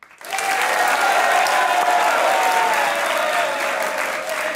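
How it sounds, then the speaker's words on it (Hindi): Studio audience applause on a Hindi-Urdu comedy talk show, a dense steady wall of clapping that starts abruptly and holds at full strength throughout, close and loud with no speech over it. "तो तालियां बजाइए"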